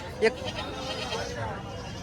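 Goats bleating among chatter at the Jawala goat market in Aundha Nagnath, Hingoli, a sharp bleat standing out briefly while several people talk in a busy crowd.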